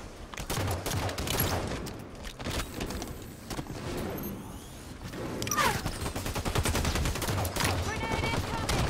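Rapid video game gunfire with a grenade blast in an online Slayer match, dense bursts of shots throughout and a heavier surge in the second half.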